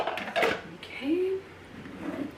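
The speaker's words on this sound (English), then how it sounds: "I'm gonna go ahead and put all 3 baskets on." Metal steamer baskets set onto a large industrial-size steamer, a couple of close clanking knocks and a scraping ring of metal, with brief speech nearby.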